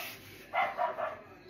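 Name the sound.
dog barking, played by Alexa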